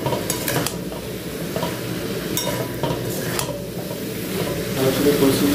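Potato and soybean curry sautéing with cumin and coriander powder in a pan, a steady sizzle with occasional stirring scrapes close by, continuous throughout.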